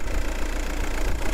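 A Volkswagen Passat B5 1.9 TDI diesel engine idles steadily with a low, even rumble and rapid rhythmic throb, close by, with no talking.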